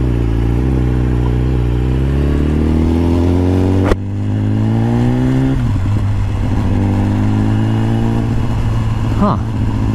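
A 2014 BMW S1000RR HP4 sport motorcycle engine droning loudly and steadily close up while riding, with a rising pitch, a sharp click from a gear change, then renewed acceleration.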